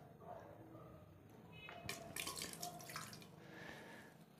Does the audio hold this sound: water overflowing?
yes